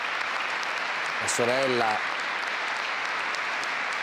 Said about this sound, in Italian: il lunghissimo applauso della Chiesa